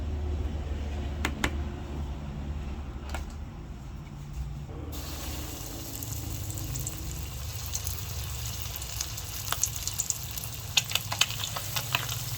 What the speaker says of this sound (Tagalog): Kanya po ipiprito.